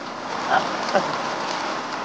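Rain falls in a steady, dense hiss that fills the whole stretch, with a couple of faint thumps and short sounds nearby and no clear speech.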